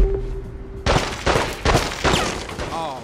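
Rapid gunfire bursts crackle through a shootout in The Godfather 2 video game, several loud volleys in quick succession starting about a second in, with some speech mixed in.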